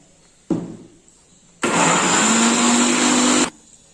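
An electric blender grinds muskmelon with milk and sugar, starting with a short whir, pausing, then running in a loud, steady roar for about two seconds before stopping, close by with no talking.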